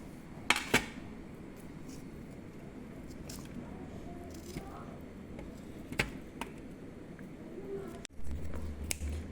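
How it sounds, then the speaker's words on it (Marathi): Ice apple (tadgola) being cut into small pieces, with sparse sharp knife taps and clicks against a surface standing out over a soft steady background hiss. "हे आपण बारीक पीस करून घेऊया अगोदर"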